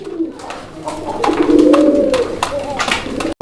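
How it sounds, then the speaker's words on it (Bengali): Fancy exhibition pigeons coo close by in low, rolling bursts, with clicks and shuffling noises around them and a brief voice in the background. "এখানে একটা এক্সিবিশন কবুতর"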